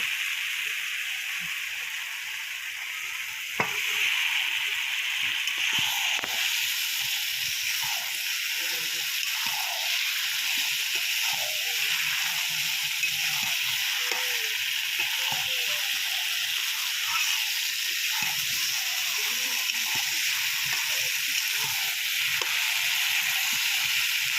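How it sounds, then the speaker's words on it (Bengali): Cut pieces of country black rooster meat sizzle in a pan of tomato-fried masala, a loud steady hiss throughout with a sharp clatter early on and faint scraping underneath. "এবার এর মধ্যে দিয়ে দেব কেটে রাখা মাংস।"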